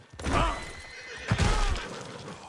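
A horse in the video game Red Dead Redemption whinnies loudly twice in quick succession, close up, with a short snort and a few hoof thuds between.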